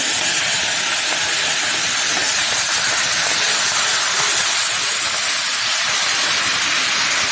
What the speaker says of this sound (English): Now put all the pieces into the pan like this